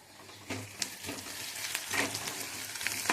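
Masala for fish curry sizzles and fries in a hot pan, a steady crackling hiss with small popping spurts and faint scraping, close and fairly quiet.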